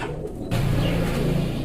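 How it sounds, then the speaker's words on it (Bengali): Rare-coloured Sirazi pigeons at a pigeon seller's coo in low, throaty tones close by, a soft rolling murmur that swells and continues steadily over light background noise. "দেখেন এগুলা কিন্তু এই কালারের সিরাজি কবুতর কিন্তু পাওয়া যায় না, খুবই কম"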